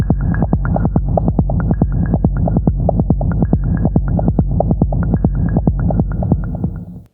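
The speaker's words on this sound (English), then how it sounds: "let me just see how that rumble kick sounds when I filter the top of it" Rumbling techno kick drum from a Roland SP-404 MK2, S-1 and TR-6S setup with its top end filtered off, pounding in a steady fast four-on-the-floor pulse over a continuous low droning rumble, loud and alone.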